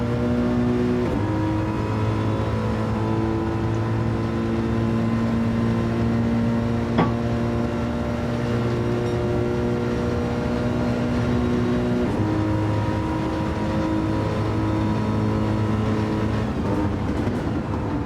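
Race car engines in a Flat Out Racing Am-Division game hold a steady, sustained drone at high revs. Shifts in pitch and a brief click come partway through, with no talk over the sound.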